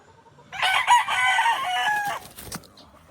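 A sweater gamefowl rooster crows once, close and loud, in a single drawn-out call of about a second and a half, followed by quieter farmyard noises.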